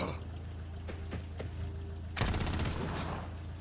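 Sniper and machine gun fire in Xenonauts 2: a few faint, spaced single shots, then a sudden loud burst of rapid automatic fire that rattles on and slowly fades.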